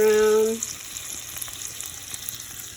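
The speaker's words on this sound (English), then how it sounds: "That sauce is on a slow simmer." Homemade spaghetti sauce with meatballs finishing in it bubbles on a slow simmer in a pot, a soft steady sizzle and faint popping that follows a brief loud tonal hum at the start.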